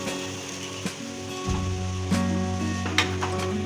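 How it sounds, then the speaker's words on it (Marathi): Paneer stir-fried in a pan for momo filling, with a steady sizzle, a few sharp spatula scrapes and clinks, and a persistent low hum beneath, close and clear. "पनीर घालून चांगलं परता"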